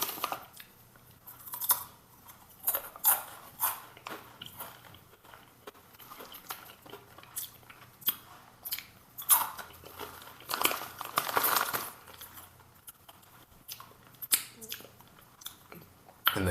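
Close, crunchy chewing of Wendy's Takis Fuego fries, with irregular bursts of bites and crinkling between quieter moments, no talk.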